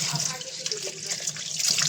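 Tap water runs steadily into a sink while dishes are washed, a continuous close hiss and splash with faint clinks and a voice murmuring in the background.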